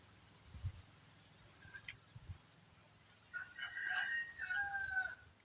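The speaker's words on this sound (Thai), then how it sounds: "ฟังเสียงไก่เลยพี่น้อง" A rooster crows from a moderate distance in the second half, a drawn-out cock-a-doodle-doo over soft wind and low rumbling background noise.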